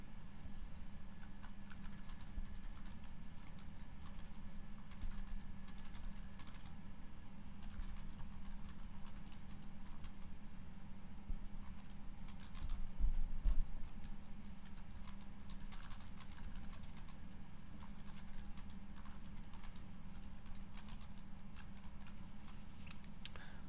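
Steady, continuous clicking of keys as text is typed on a computer keyboard while building a WordPress website, close and even throughout with a brief louder cluster midway, and no talking.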